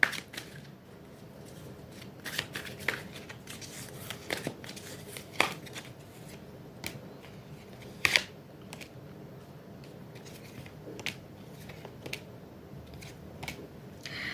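Tarot cards being drawn one by one from a deck, heard as a steady series of soft papery snaps and flicks spread over a quiet background, some louder than others.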